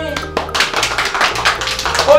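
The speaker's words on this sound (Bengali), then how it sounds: "হাততালি।" At a children's fun game show, kids clap in a quick, uneven burst for the winner of a round. The clapping is fairly close and loud, with music playing underneath.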